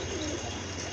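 A pair of pigeons coos in a soft, continuous low burble, close by and steady, against a wash of broadband background noise.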